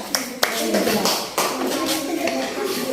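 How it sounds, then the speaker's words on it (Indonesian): A classroom of pupils claps for a student group during a lesson, brief scattered hand claps and taps mixed with children's voices and nearby adult speech. "tepuk tangan untuk kelompok dua"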